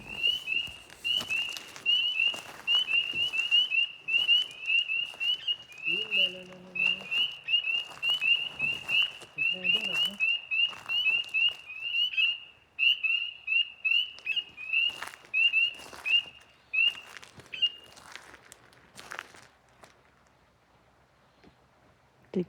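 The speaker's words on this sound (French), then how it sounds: "Des grenouilles, chantez les grenouilles!" Frogs call outdoors near a chalet, a steady chorus of high, rapid trills repeating in bursts against a quiet background, with scattered faint knocks and rustles.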